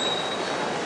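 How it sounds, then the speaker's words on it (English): Trains at King's Cross station in London, heard as a steady, dense roar of station ambience with a faint high metallic ring, continuous and without talk. "Trains."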